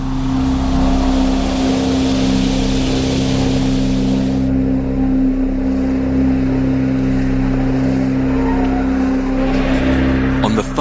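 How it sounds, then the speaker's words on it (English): An Airbus A380's jet engines drone steadily and loudly during engine start and pushback, a strong constant low hum and broad roaring hiss, continuous throughout, close by. "Then the engines are started and the aircraft pushed back."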